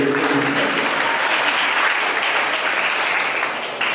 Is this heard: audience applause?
yes